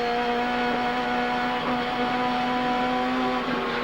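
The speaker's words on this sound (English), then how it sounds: "You can hear the Commodore to his right-hand side." A Holden Commodore racing at Symmons Plains in the 1990 ATCC, its engine holding a loud, steady high drone with a strong tonal whine that shifts slightly in pitch, heard continuously as several cars battle close together.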